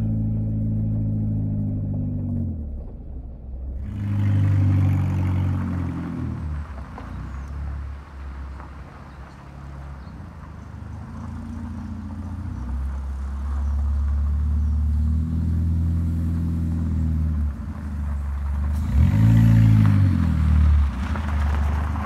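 A project car driving with its transmission stuck in the wrong gear, feeling like third or fourth, gives a steady low engine rumble that swells and eases in long surges, heard from inside the car.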